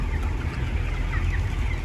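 Broiler chickens cluck and murmur inside a crowded poultry house on a Turkish farm, a dense, continuous chorus of soft calls over a low hum of the barn, with no talking.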